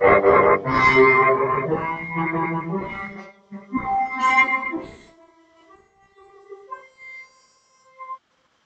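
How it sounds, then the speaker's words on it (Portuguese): A French horn plays full, mellow sustained notes that gradually soften and fade, ending with a few faint, short tones. "Este é o som da trompa."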